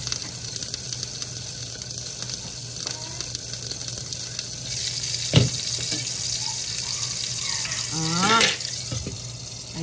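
Kitchen tap water runs steadily while a knife is washed, a close hiss with splashes and clinks, and a short clatter and some brief background sounds partway through.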